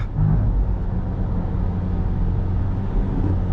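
The engine of a 2020 Ford Everest 4x4 with twin turbos and 213 horsepower pulls hard in sport gear, a steady, loud low rumble from inside the cabin with no talk.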